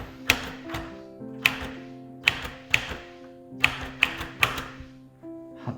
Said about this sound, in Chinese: 所以这款打字机它整个这个敲击的过程呢，我觉得非常 的舒服